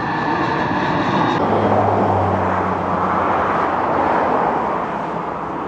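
An airplane roars past nearby as road traffic hums along, a broad steady rumble that swells, holds and then eases slightly toward the end, with no voices.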